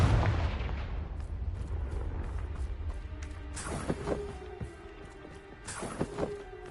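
Confringo fire spell blasts in Hogwarts Legacy, a series of sharp booming explosions with crackling debris, several bursts clustered toward the end over a low rumbling background.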